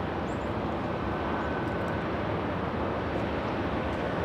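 A KLM airliner on the move at LAX, its engines producing a steady, broad, distant roar that holds level throughout with no talk.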